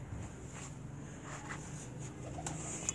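A pigeon coos softly on a rooftop loft in Rawalpindi, faint, low and somewhat distant over steady background hiss and a few light bird sounds.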